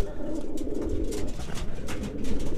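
A pigeon in its coop gives soft, repeated throaty coos over a dense, steady background murmur, close by, with no clear speech.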